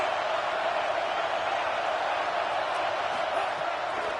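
A stadium crowd in a football video game cheers on the defense near the goal line, a steady, dense wash of roaring and whooping that stays constant from start to finish.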